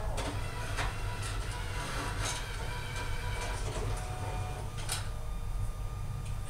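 An ID card printer drawing in a cleaning card and spinning its rollers, giving a steady low mechanical whir with faint clicks and ticks scattered through it.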